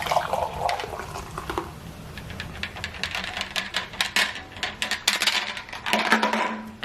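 Coffee pours into a mug with a gurgling, splashing stream, accompanied by light clinks and taps of crockery nearby.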